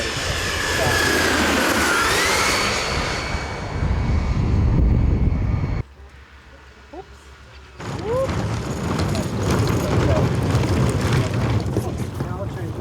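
Giant scale radio-controlled airliner models flying at a public airshow, engines whining and roaring loudly with a sharp drop to near quiet midway before the engine noise returns, talk heard over it.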